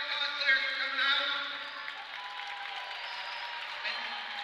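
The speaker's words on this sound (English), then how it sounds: "we want to give those guys a great big round of applause" Steady applause from a crowd at a hockey game, clapping for cosplayers, sustained at a moderate level throughout with a slight swell near the start.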